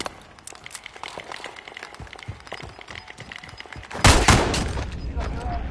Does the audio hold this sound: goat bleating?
no